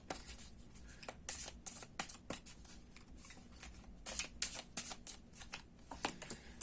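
Tarot cards are shuffled by hand up close in short irregular bursts of soft flicking and sliding, quiet, with brief pauses and no talking.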